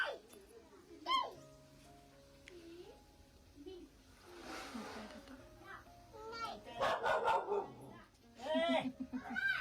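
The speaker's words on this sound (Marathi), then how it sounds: "भुंकतोय कसा कुत्रा?" Village dog barking in a few sharp bursts scattered through the stretch at moderate distance, mixed with children's voices and someone talking nearby.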